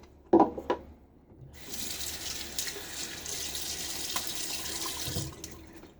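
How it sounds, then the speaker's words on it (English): After a couple of sharp clinks, a tap runs for several seconds as water rinses the threads of a shaving soap tub, a steady close splashing hiss that stops abruptly near the end. "Wash off my threads of my soap tub so that soap doesn't dry that way."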